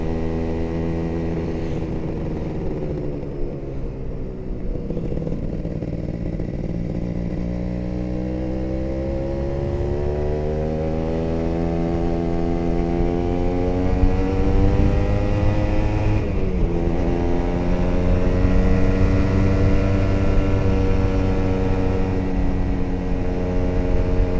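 A two-stroke Kawasaki Ninja with a standard exhaust runs steadily while climbing an uphill road, its buzzing engine note rising and falling continuously and loudly, with no voices.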